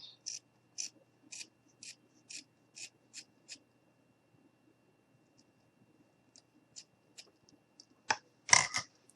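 Scissors snipping craft material for a fall gnome: a quick run of crisp, evenly spaced cuts, a pause, then a few more snips ending in a louder close crunch, all quiet and near with no talking.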